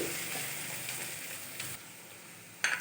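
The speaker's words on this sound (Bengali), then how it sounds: "এবার দিয়ে দিচ্ছি কুচি করে রাখা পেঁয়াজ। কিছুক্ষণ ভেজে" Chopped onions, added after minced ginger, fry in hot oil, giving a soft continuous sizzle at low volume with a couple of brief clatters of stirring near the end, and no speech.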